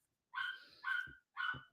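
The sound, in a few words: dog barking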